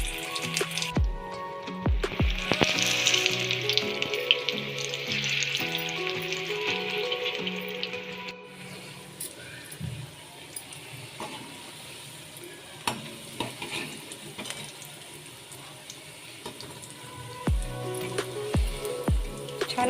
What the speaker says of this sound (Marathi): भजी तळायला घेतली आहे मी.